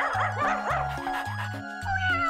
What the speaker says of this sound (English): The dog spots a cat.